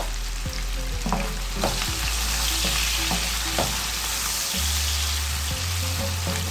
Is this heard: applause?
no